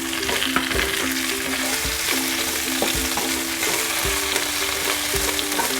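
Caisim greens are stir-fried in hot oil with a continuous sizzle and regular scraping strokes of a spatula about once a second, close and fairly loud over a faint steady hum.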